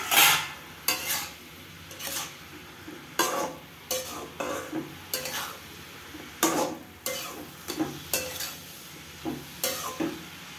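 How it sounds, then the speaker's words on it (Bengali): Vegetable curry being stirred in a pan, a series of repeated scraping strokes of a utensil against the cookware with faint sizzling beneath, close and fairly quiet. "আবার আমি তরকারিটা একটু নেড়ে ছেড়ে নেব।"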